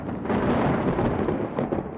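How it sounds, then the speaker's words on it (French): Thunder rumbles through a stormy scene in a French animated cartoon: a dense, continuous roll that stays loud and heavy for the full two seconds, with no voices. "Providentiel, cet orage, tu trouves pas?"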